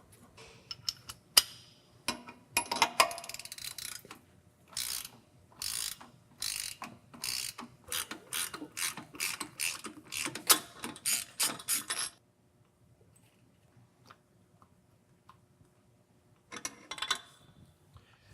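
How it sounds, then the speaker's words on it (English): A hand ratchet loosens and backs out the caging bolt on a truck brake chamber, a rapid run of crisp close clicks in bursts for about twelve seconds, then near silence before a brief final flurry of clicks. "uncage the spring by loosening and removing the caging bolt"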